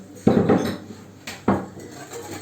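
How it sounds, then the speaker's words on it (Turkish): A utensil mixes crepe batter of milk, water and salt in a bowl, giving two sharp clinks against the bowl with a scraping, sloshing tail after each, close by and with no talking. "iyice de karıştırayım"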